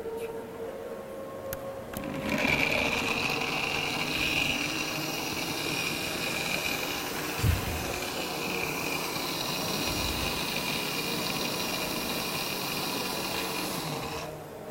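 A Froothie Optimum blender switched on after a couple of seconds, giving a steady whirring motor hum with a high whine and hiss that runs continuously to the end, with a brief low thump midway.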